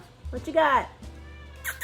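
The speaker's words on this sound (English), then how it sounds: "And that's my cat meowing her head off." A house cat gives a single drawn-out meow indoors, close and fairly loud, followed by a person speaking briefly nearby.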